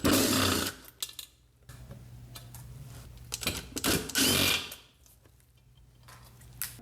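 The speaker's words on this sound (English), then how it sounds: "Now we can go ahead and remove the 3 bolts holding down the stator." Power tool whirs in bursts as bolts holding down the stator come out of a 2006–07 GSXR 600/750 motorcycle, short buzzing runs with pauses and a low hum between them, fairly close.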